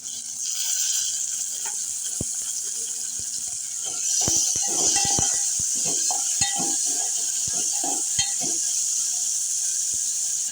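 Onion and tomatoes frying in a pan with garlic, chilli and curry leaves for dal tadka: a steady hiss of sizzling throughout, with scattered clinks and scrapes of a spoon stirring against the pan, close and without speech.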